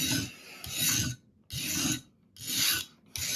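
A knife is drawn across a fine abrasive sharpening stone in four slow, even, rasping strokes, each a loud close scrape separated by brief pauses, with no talk.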